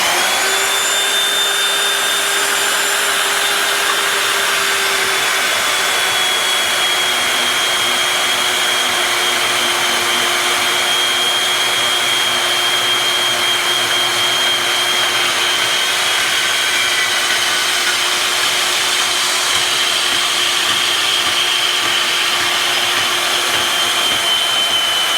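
A $99 Harbor Freight bandsaw cuts through 1/8 inch wall steel tubing, a loud, steady, continuous whining buzz with a sustained high tone that holds unchanged for the whole stretch, with no voices.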